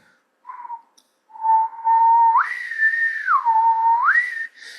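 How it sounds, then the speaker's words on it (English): Someone whistles a simple tune alone, clear and close: short notes, then a long tone that slides up, holds, dips, and rises again. "which is like when you're whistling"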